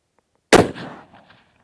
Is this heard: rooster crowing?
no